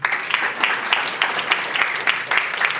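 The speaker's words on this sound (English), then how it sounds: "I want you to give yourself a big round of applause." A room full of people at a real estate business seminar claps steadily for a few seconds, dense and close, with a few louder individual claps standing out.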